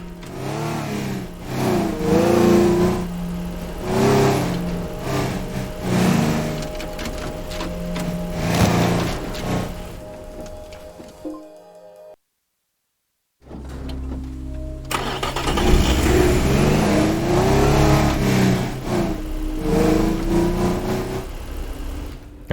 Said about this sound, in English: I'm just going to go ahead and back the car up in there